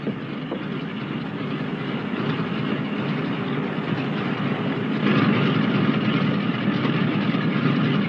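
A steam-era train departs in an old 1940 film, a continuous rumbling chug of rail cars building slightly in loudness as it pulls away, with no talk over it.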